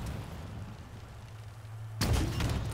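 A single loud shot strikes the Razorback vehicle in Halo Infinite, arriving as a sudden broadband impact after a stretch of low engine-like rumble and continuing as a dense crackle to the end.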